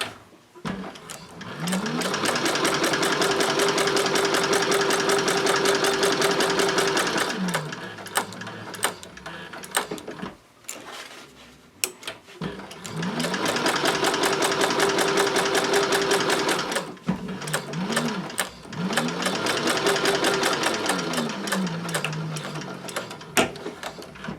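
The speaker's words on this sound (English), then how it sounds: "I'm sewing on the handles now." A Techsew 4800 Pro sewing machine stitching handles, with long runs of loud, close, rapid needle hammering that ramp up and wind down, separated by quieter pauses with mechanical clicks.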